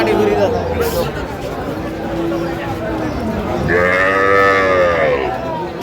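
Cattle, including Sahiwal bulls and calves, moo loudly and repeatedly amid a crowd's busy chatter at a livestock market, with a drawn-out low call standing out near the end.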